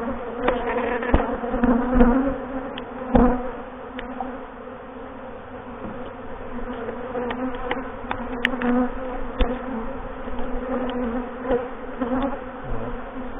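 Honeybees hum in a dense, close swarm at the hive during autumn feeding, their buzzing rising and falling in waves with individual insects darting past.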